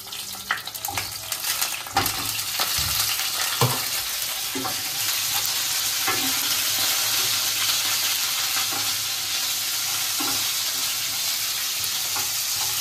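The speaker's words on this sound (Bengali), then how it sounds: "প্রথমে আমি ফুলকপিটাকে একটুখানি হালকা করে ভেজে নেব" Cauliflower frying lightly in hot oil in a pan, a loud continuous sizzle with brief stirring scrapes and taps of a spatula throughout.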